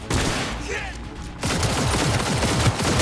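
Gunfire in the video game Cyberpunk 2077, including shotgun blasts: loud, dense volleys of shots filling most of the clip, with a brief lull before the firing resumes harder, and a voice speaking over it.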